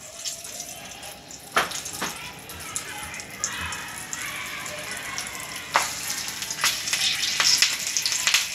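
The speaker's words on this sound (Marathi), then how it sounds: "जरा मिरच्या तळताना जपूनच बरं का. हे बघा तडतडल्या कशा" Slit green chillies stuffed with turmeric and salt fry in hot oil, giving a constant sizzle with sharp pops and crackles scattered through it. A voice talks now and then over the frying.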